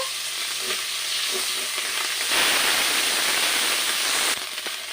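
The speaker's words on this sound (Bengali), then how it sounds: "এক পাশটা আমি ভেজে নেব তারপরে আমি উল্টে দেব দেখুন মাছটা এখন আমি উল্টে দেব" Fish frying in hot oil in a pan sizzles steadily up close, then swells into a louder, brighter hiss for a couple of seconds as the fish is turned over.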